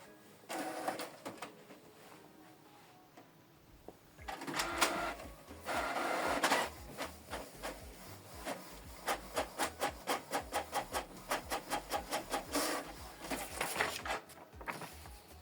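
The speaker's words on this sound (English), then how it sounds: "Print a test page" Canon Pixma TS5350i inkjet printer running a test page: bursts of mechanical whirring and feed noise, then a fast regular train of clicking, chattering print-head passes, close and moderately loud, with no voices.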